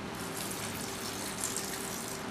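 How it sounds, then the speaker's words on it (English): Water is poured into a sand chum mix for fishing in Southwest Florida, a faint, even gushing hiss that runs through the whole clip. "as we're mixing this up, we're going to add a little bit of water"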